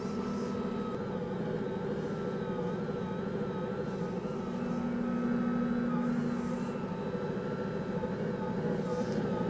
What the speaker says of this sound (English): We're also creating a gluten structure as we move the dough through the meat grinder.